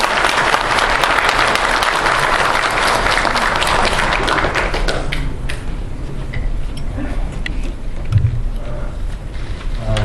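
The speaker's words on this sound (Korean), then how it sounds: "많은 박수 부탁드립니다." An audience at a lecture event bursts into loud, sustained applause that thins out after a few seconds into scattered claps, with faint murmuring underneath.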